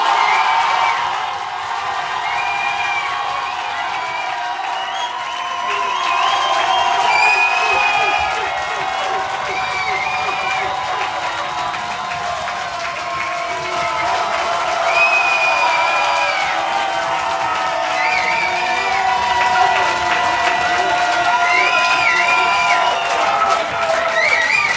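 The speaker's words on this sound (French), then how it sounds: "Je vous demande d'applaudir les Blinis." A studio crowd at a French television show applauds and cheers, a sustained roar of clapping and voices that swells and eases, with shouts and whoops rising over it.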